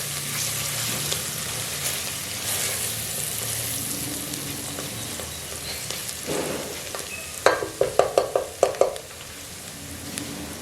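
Beef yakhni pulao being stirred in a pot in Bannu style, a steady sizzle with a series of loud scraping, clattering stirs bunched near the end.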